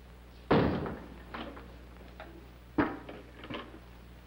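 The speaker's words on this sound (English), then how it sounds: "Close that door." A door slams shut with a sharp, loud thud in an indoor office, followed by fainter knocks and a second, slightly softer slam; no talk.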